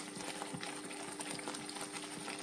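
Jaggery halwa mixture boiling in a pan, a steady dense bubbling and popping that stays close and even throughout, with no voices.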